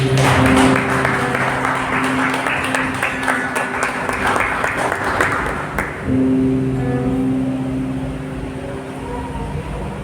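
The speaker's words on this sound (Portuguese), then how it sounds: "Vamos dar uma salva de palmas a Ele, igreja." A church congregation applauds during a worship service, a dense wash of clapping for about six seconds over a sustained droning tone, then fading into a quieter hall ambience.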